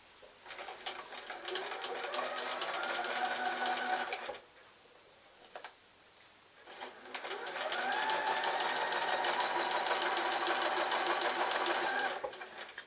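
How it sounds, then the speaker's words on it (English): A sewing machine with a quarter-inch foot runs in two long steady bursts while string piecing patchwork, a close, even whirring stitch with a short quiet gap between runs. "it comes under the foot, and as usual I've got my 1/4 inch foot to give me a 1/4 inch seam"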